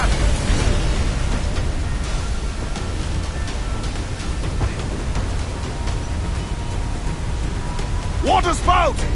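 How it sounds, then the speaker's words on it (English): A waterspout at sea in Assassin's Creed IV, a dense roaring wash of wind and spray that persists throughout, with a short burst of shouting near the end. "Water spout!"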